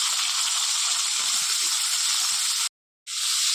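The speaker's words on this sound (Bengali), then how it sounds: "ফুলকপিগুলো অল্প আঁচের মধ্যে নেড়ে নেব, হালকা আঁচে ভাজতে ভাজতে" Cauliflower florets frying in oil in a wok, a loud, even hiss of sizzling that holds steady, cuts out briefly near the end, then resumes.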